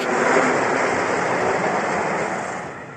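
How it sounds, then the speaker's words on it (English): A loud, steady roar of a roller coaster train's upstop wheels on the track at Six Flags Great Adventure, constant rumbling that fades slightly at the end. "accompanied by the delightful sound of the train's upstop wheels on the track."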